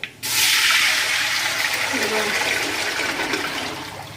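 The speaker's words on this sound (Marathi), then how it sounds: "तर आपण आता पाणी टाकू" Water pours into a pot for rice-flour papad dough, a loud continuous rushing splash that starts abruptly and holds steady for a few seconds before easing slightly.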